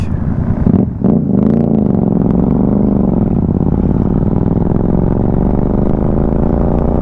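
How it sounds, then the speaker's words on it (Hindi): A motorcycle fitted with a loud aftermarket exhaust rides ahead on a highway in Punjab, giving a loud, steady droning engine note that wavers slightly in pitch throughout, with no talking. "एग्जॉस्ट मस्त लगवा रखा है इसने, पर इसके पीछे नहीं चल सकते भाई के, क्योंकि कानों की ऐसी तैसी हो रही है।"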